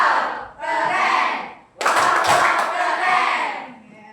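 A classroom group performs the 'tepuk wow' clapping chant, with loud rhythmic claps and voices chanting together in two bursts separated by a short pause, close and energetic.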